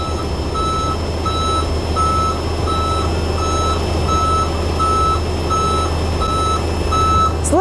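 Rhythmic electronic warning beeps sound at a steady pace while a dump truck body is raised, over the continuous close rumble of the truck's engine.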